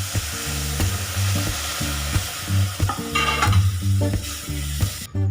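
Loud hissing sizzle as hot water hits roasted amaranth (rajgira) flour for sheera, with steady stirring scrapes and clinks from a spoon against the pan, close up and continuous.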